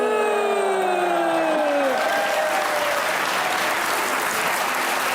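A studio audience bursts into sustained, dense applause on a Pakistani TV chat show, loud and steady throughout, as a tonal sound fades out at the start.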